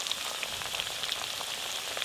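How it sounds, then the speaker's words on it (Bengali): Potatoes fry in hot oil with a steady, dense sizzle that crackles evenly and continuously throughout, close and moderately loud, with no voices. "ভালো করে আলু ভাজা হয়ে গেছে, এবার তুলে নেবো।"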